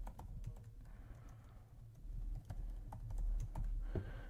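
A password is typed on a computer keyboard, a close run of rapid, uneven key clicks that continues throughout over a low room hum.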